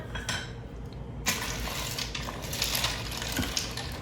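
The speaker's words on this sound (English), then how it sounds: "So this is 1 pound of rigatoni going in just like that. I'm gonna give it a stir." One pound of rigatoni pasta is stirred in an Instant Pot, with scraping and clinking of a utensil against the metal sides, a sudden burst of noise partway through, no talking.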